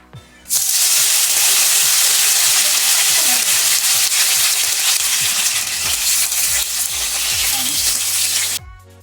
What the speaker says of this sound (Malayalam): അതിലേക്ക് മൂന്ന് ടേബിൾ സ്പൂൺ വെളിച്ചെണ്ണ ഒഴിച്ചു കൊടുക്കുക അതിലേക്ക് ഒരു തണ്ട് കറിവേപ്പില ഉരുട്ട് അതുപോലെ ഫിഷും ഇതേപോലെ നിരത്തി കൊടുക്കണം